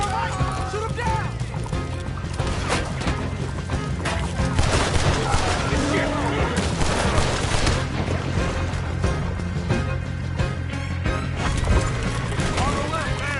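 Gunfire in the western game Red Dead Redemption 2, repeated shots mixed with horse hooves and clip-clop under dense game music, with voices calling out throughout.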